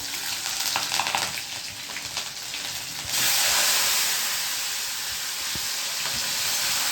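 Asafoetida and green chillies hit hot oil for a Gujarati tempering, a steady close sizzle that jumps to a louder, brighter hiss partway through and stays strong to the end.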